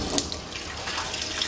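Water streams steadily into a kadhai for cooking Maggi, a continuous close splashing pour in a home kitchen with no one speaking.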